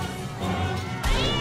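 A cat meows in the South Park video game, two short close meows in quick succession, the second rising and sharper.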